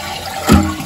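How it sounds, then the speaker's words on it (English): A toilet flushes once during a broken flapper repair, a short surge of rushing water that swells midway and then drains away with a lingering trickle. "So I flush the toilet,"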